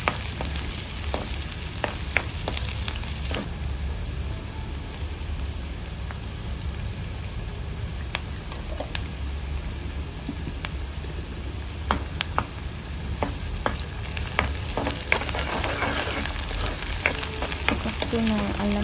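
Onions and ginger-garlic paste fry in a pan for an okra and tomato curry, a continuous crackling sizzle with scattered sharp spatters and spoon clicks as the mixture is stirred, steady and close.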